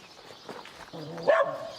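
Stray dogs on the streets of Bucharest bark a few times at a distance, the short yelps rising briefly above quiet outdoor background noise.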